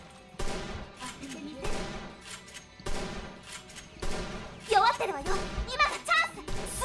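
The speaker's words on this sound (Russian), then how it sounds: "Ё-моё, сколько тут взрывов, реально." Rapid bursts of gunfire and explosions from the shooter game Sword Art Online Fatal Bullet, repeated blasts in quick succession under a player's running commentary, with brighter crackling impacts building toward the end.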